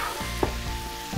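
Grated tomatoes hit hot olive oil in a frying pan, producing a brief, steady, close sizzle with one small pop.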